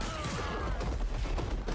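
Shotgun blasts boom in a video game, a dense burst of loud, overlapping shots that fills the short moment without talk.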